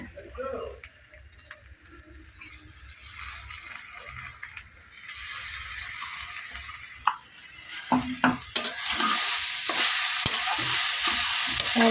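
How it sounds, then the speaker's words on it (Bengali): Vegetable chop filling with peanuts and coriander leaves being stirred and fried in a wok, a soft sizzle with scraping spatula strokes and clacks that grows louder and fuller toward the end, with no voices. "ভালো করে মিশিয়ে নিতে হবে, যতক্ষণ না কড়াই থেকে ছেড়ে আসছে মশলাটা, ততক্ষণ মিশিয়ে নিতে হবে"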